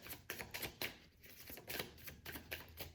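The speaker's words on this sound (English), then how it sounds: "So let me pull a few Oracle cards and see what other messages I got here." Oracle cards are pulled and shuffled in a quiet room, giving soft, rapid riffling clicks in several short bursts, faint and close.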